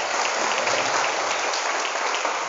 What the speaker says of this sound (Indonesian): Tepuk tangan terkait.